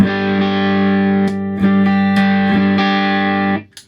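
An electric guitar plays through a handmade amp with distortion, EQ knobs at noon and gain near eleven o'clock. Sustained, buzzing distorted notes ring out, changing pitch several times with sharp attacks before cutting off near the end.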